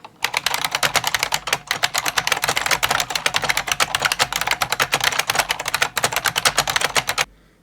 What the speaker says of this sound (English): Here's the Unicomp buckling spring keyboard.